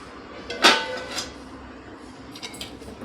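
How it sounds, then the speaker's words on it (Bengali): A metal pot lid lifts off a cooking pot of tomatoes boiled with a little salt, giving one sharp clank and a scraping clatter, then a few softer metallic taps against the faint quiet of a kitchen. "ঢাকনাটা খুলবো।"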